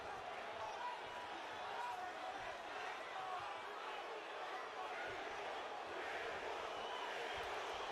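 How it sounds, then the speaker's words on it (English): Boxing crowd in an arena in San Antonio roars steadily in the distance, a continuous wash of cheering and shouting that stays fairly faint throughout. "The crowd in San Antonio trying to will Cruz to victory."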